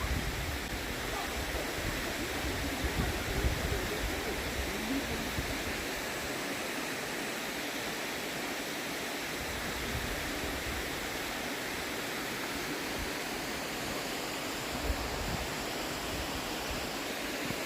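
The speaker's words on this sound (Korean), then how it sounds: "아따 물소리 좋다" Water from a waterfall near a mountain temple pours in a constant broadband roar, loud and steady with no pauses.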